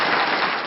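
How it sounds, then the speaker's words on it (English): A brief, dense round of applause for Manuela, steady clapping from a small audience that fades slightly over under a second. "So another round of applause for Manuela."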